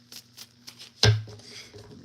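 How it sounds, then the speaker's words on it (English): A deck of cards is shuffled during a live card reading: a sharp thump, then a brief, soft riffling rustle close by, over a faint low hum. "Let me shuffle again."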